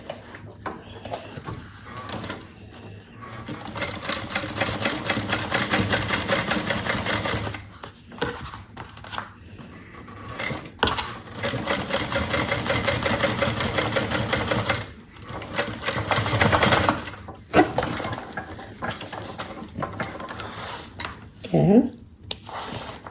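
A sewing machine stitches fabric for a bucket bag in several bursts of rapid, steady whirring close by, separated by short pauses and clicks, with someone talking in between.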